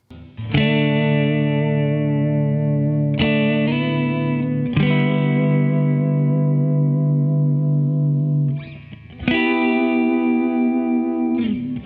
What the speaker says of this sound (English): The Mac mode, in the middle right here, that leans into a magnetone style pitch vibrato, going into reverb.